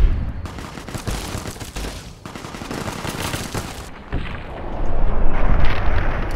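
Sustained gunfire in Fallout: New Vegas, with rapid bursts of shots and booming impacts rolling on for several seconds, loud and dense, easing briefly before a heavier rumbling stretch near the end.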